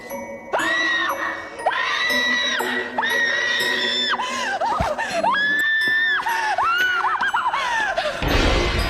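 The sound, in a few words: people screaming at the sight of blood on the floor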